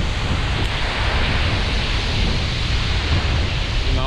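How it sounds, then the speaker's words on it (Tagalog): A roadside waterfall roars as a steady, dense rush of water, loud and unbroken throughout with no other sounds standing out. "Mga falls sa tabing kalsada lang."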